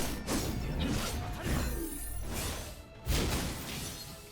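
Objects smash and shatter in Final Fantasy 7 EC, a few loud crashing bursts with swishing between them, close and alone with no talk.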